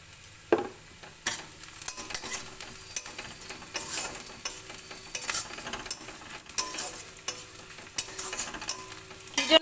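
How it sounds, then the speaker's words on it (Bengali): Five-spice, dried chillies and onion sizzle and sputter in hot oil in a pan while being stirred, a steady close frying hiss with scraping stirs and occasional louder crackles throughout. "কড়ায় তেল দিয়ে পাঁচফোড়ন, শুকনো লঙ্কা, পেঁয়াজ ফোড়ন দিয়ে দিয়েছি"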